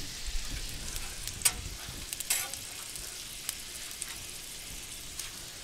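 Onions and mushrooms frying in oil on a Blackstone griddle, a constant close sizzle with scattered pops and a few light scraping taps, no voices heard.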